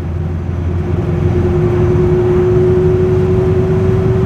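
Light Vauxhall HA Viva car picking up speed, its engine note rising in a steady, loud whining drone with road rumble heard from inside the cabin.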